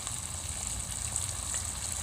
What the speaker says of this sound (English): And then I'm just gonna water these ones from the bottom.